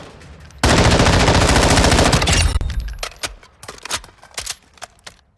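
A Sig Sauer MCX Virtus SBR firing in Call of Duty Modern Warfare II: a loud, rapid automatic burst lasting about two seconds, followed by a handful of scattered single shots and clatter.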